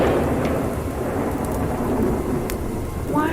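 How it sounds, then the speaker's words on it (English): Thunderstorm with heavy rain pouring steadily and low rolling thunder underneath, a dense, loud, continuous roar with a few brighter drips and cracks, no voices. "I've always been just a little scared of thunder, lightning storms in general."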